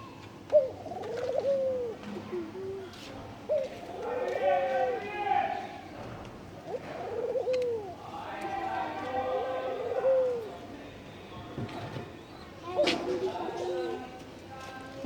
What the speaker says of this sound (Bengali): এই যে আমার ঘুঘু পাখি ডাকতেছে।